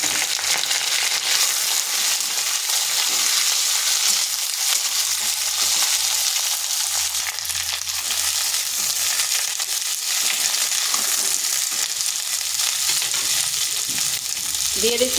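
Ivy gourd (kundri) hits hot oil tempered with whole cumin, a dried chili and mustard seeds, giving a loud, continuous sizzle with crackling pops and occasional stirring scrapes.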